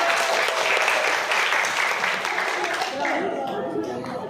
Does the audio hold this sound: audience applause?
yes